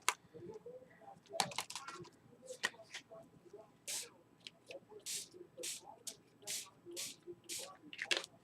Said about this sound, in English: if you take your mist and spray it on here, let's use the pink